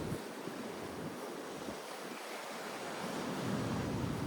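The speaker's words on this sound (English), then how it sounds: "the gentle waves." Gentle ocean waves wash softly along a bay, a steady hiss of surf with light wind rumble across the microphone, continuous and unbroken with no voices.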